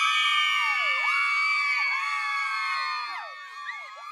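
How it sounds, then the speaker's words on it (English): A dense studio crowd sound effect of high-pitched cheering, whooping and shrill shouts, sustained and loud before gradually thinning toward the end, with no clapping clearly standing out. "Let's pause for hoopla and applause."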